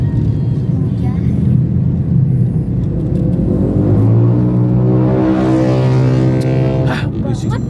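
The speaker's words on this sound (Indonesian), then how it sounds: "Ah, berisik banget mobil." A car makes a loud, droning engine noise while driving at night, its pitch climbing as it accelerates, with people talking inside the cabin.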